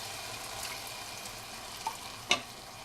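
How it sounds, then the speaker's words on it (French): Risotto sizzling in a pan as a ladle of broth is poured in, a soft continuous frying hiss with a couple of brief clinks and splashes. "il faut verser une louche de bouillon"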